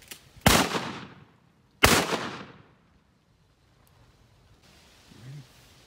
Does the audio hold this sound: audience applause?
no